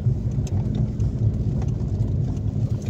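The engine of a Renault R11 GTX runs at a steady, low rumbling idle. It is heard alone at moderate level, without any revving.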